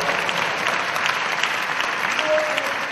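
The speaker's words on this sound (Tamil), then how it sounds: "கைதட்டுங்க பார்க்கலாம்" A church congregation at a Sunday service claps together, a steady wash of many hands at moderate loudness across the whole stretch, with faint voices mixed in.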